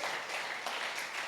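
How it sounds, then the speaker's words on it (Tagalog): A church congregation in Manila applauds, dense overlapping clapping filling the room evenly throughout the brief moment. "Isa pang palakpak sa Panginoon, malakas na palakpak sa Diyos."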